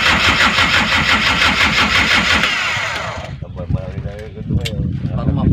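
A boat engine cranks and fires after a new starter and battery are fitted, whirring rapidly then catching into a loud, rough idle that runs unevenly close by.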